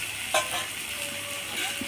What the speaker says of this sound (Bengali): আমি সবজি মোটামুটি কষা হয়ে গেছে ভাজা হয়েছে